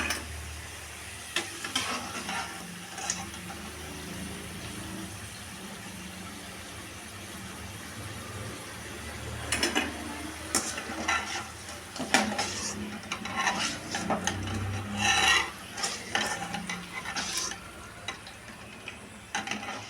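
Potato pieces fry in hot oil with a steady low sizzle, broken by scraping and clinking of a utensil against the pan.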